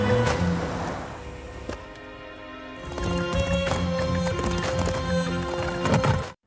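Horses gallop in a race, their hooves drumming in a rapid, dense patter that grows louder and busier partway through, with an occasional whinny mixed in.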